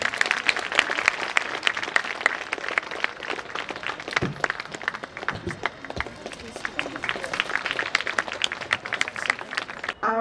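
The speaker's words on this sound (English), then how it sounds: "Everyone, have a big round of applause, please." A school audience at a Model United Nations event claps loudly and continuously to welcome the chief guest, a dense, even burst of many hands close by.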